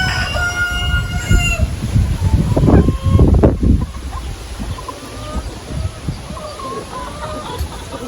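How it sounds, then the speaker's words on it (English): Turkeys and other backyard fowl cluck and call outdoors in a garden on a mild day after overnight storms, with a louder flurry of calls midway and steady chatter of birds throughout. "Turkeys."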